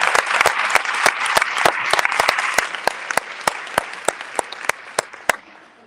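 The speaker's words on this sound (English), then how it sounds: "Let's give them a round of applause." An audience at a school welcome reception claps loudly and steadily at first, then thins out into scattered, sharper individual claps before stopping.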